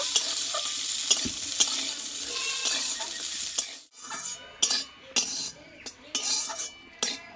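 Green peas and green chillies frying in oil make a bright, steady sizzle up close, broken by repeated metal utensil clinks and scrapes against the pan. The frying fades partway through, then stirring strokes and knocks return with no voices.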